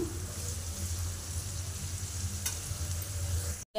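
Thin green chilli strips with a pinch of salt sizzle steadily in a hot pan, a constant close hiss under a low hum with one brief stir near the end, no voices.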